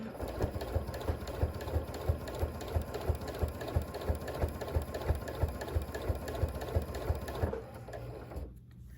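A sewing machine runs steadily at close range, stitching a quilt made from charm pack squares with a rapid, even chugging rhythm for about seven seconds before stopping, leaving quiet handling sounds.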